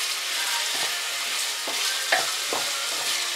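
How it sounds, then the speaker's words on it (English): Onions, carrots and celery sizzle steadily in a pan, with a few soft scrapes of a spoon stirring them at irregular intervals, close and without talk. "fry and stir until your onions are soft and translucent and start to get some color"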